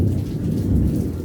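Heavy rain pouring down outdoors, a loud, steady, dense wash of noise with no gaps and no voices.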